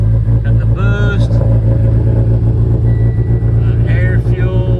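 A loud car engine at a dealer auction runs with a heavy, close rumble while idling in neutral, and brief revs rise above it.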